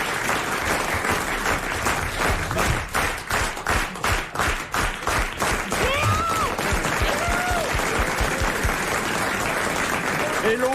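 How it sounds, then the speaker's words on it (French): Studio audience applause on the French radio comedy quiz Les Grosses Têtes, loud and sustained clapping with voices and a few cheers or whoops mixed in toward the end. "Alors on applaudit Léon Zitrone."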